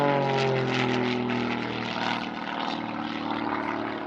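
A classic propeller aircraft flies past at the Shuttleworth Collection air show, its engine a steady loud drone with shifting pitch and a rough throbbing texture, heard alone with no talk.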